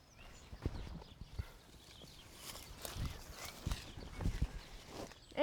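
Hooves of a horse clip-clop at a steady walking pace on hard ground, a second horse being led alongside, with irregular close footfalls throughout and no talking.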